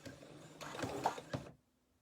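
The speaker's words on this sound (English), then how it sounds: "go over it with your sewing machine" Sewing machine stitching over elastic on a fabric mask, a quiet rapid mechanical whir with a few louder clunks that runs for about a second and a half before stopping.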